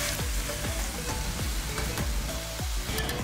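Young papaya stir-fries in a pan after a little water is added, a bright, steady sizzle with repeated sharp spatula scrapes and taps in a loose rhythm, close and alone.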